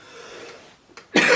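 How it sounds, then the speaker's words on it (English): A single sharp cough bursts out near the end, close and loud, from a painter at work, preceded by quiet room noise and a faint rustle. "Hope my cough goes."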